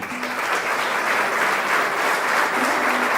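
Church congregation applauding warmly as a relic of Saint Carlo Acutis is received; dense, steady clapping from many hands fills the room for a few seconds without pause.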